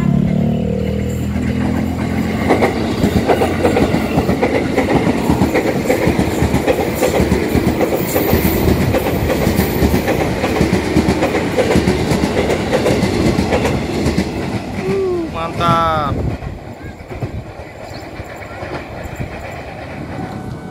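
A JR 205 series commuter train passes close by a station, a loud continuous rumble and rattle of wheels and cars with clickety-clack over the rails, easing off near the end with a brief high squeal.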